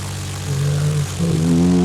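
A small propeller aircraft comes in to land in a crosswind, its engine droning steadily, then shifting pitch and stepping up in tone as power changes near touchdown, heard from inside the cabin.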